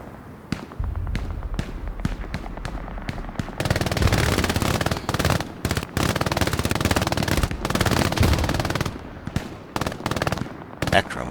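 Machine gun fire in the World War II shooter game Hell Let Loose, long loud bursts of rapid automatic shots with brief pauses between volleys and scattered single cracks, close and dense, with no talking.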